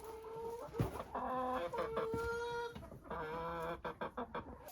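Hens in a greenhouse coop cluck and squawk in a lively, overlapping jumble of warbling calls, close and moderately quiet, with a few sharp bursts toward the end.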